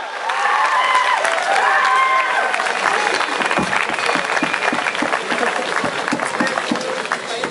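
Sustained audience applause at a college profile book release, loud and dense throughout, with scattered cheers and a few voices mixed into the clapping.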